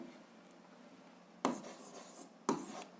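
A pen scratches across paper as an algebra answer is written out, a faint steady scribble with two sharper strokes, close and quiet with no talk.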